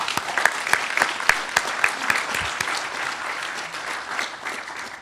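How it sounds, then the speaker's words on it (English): An audience at a scientific conference applauds its organizers, a steady roomful of clapping with sharp individual claps standing out early before it gradually thins. "let's just give them applause to thank them"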